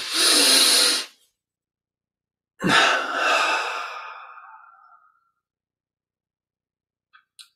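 During guided meditation, a relaxed exhalation follows the contraction of the muscles: a loud breathy rush, then a long sighing breath out that fades away, with faint ticks near the end and no speech.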